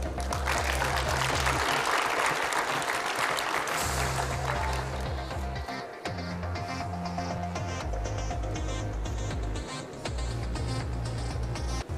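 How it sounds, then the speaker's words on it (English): An audience at an engineering summit applauds award winners, sustained crowd clapping over loud stage music with a steady pulsing bass line, the clapping fading into the music as it goes on. "So kindly clap to all the winners."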